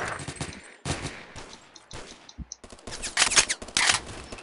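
Gunfire in the Phantom Forces shooter game: a string of sharp cracking shots and clicks, including a sniper rifle firing single rounds, fairly close with short gaps between bursts, no speech.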